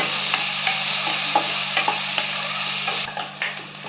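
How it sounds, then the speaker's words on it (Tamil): Curry leaves and chillies sauté in hot oil in a pan as the base for garlic chicken, giving a steady close sizzle broken by irregular spatula scrapes and taps. "கொஞ்சம் கருவேப்பிலை இது கொஞ்சம் நல்லா வதங்கலாம் கலர் மாறணும் அது வரைக்கும் கொஞ்சம் வதக்குங்க"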